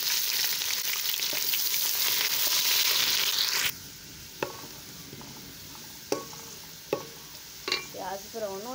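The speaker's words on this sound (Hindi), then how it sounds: "अब डालने लगे प्याज" Onions tossed into hot oil for an achari chana pulao, a loud rushing sizzle that suddenly drops to a softer fry, punctuated by several clanks and scrapes of stirring.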